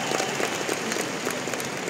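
Steady clapping from a crowd, dense and sustained for the whole stretch, with a few louder bursts rising out of the continuous patter.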